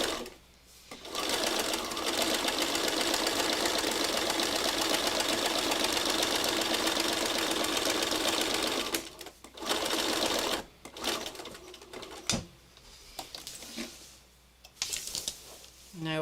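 A sewing machine stitches undulating curves in fabric, running in a loud continuous burst for about eight seconds, then in shorter start-stop runs with brief pauses, close to the listener.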